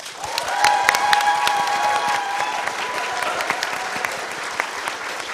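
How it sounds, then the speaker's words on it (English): Loud, sustained applause from a PAX East 2023 drag panel audience, dense clapping that swells early then holds steady for several seconds, with faint cheering. "We're going to applaud very loud after it"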